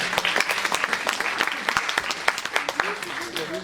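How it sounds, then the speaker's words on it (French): Show audience clapping for a teenage volunteer called up on stage, a crowd of quick, uneven handclaps that carry on steadily with a voice briefly audible over them. "On peut l'applaudir très très fort."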